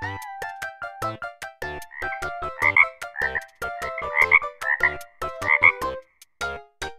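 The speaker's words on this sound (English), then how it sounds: "Or, that's a frog." A frog croaks repeatedly in a rapid, pulsing rhythm, loud and close, with brief pauses between bursts and no voices.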